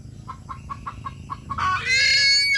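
Chickens cluck in a quick run of short repeated calls, then a louder, sustained rooster-like crow rises near the end. No one speaks.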